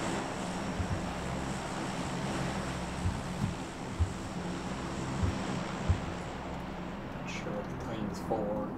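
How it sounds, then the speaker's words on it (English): An airplane flies overhead in the battle-royale game PUBG, a steady humming drone with faint tonal layers that runs throughout, with a few soft in-game clicks and knocks over it. "It's just a plane."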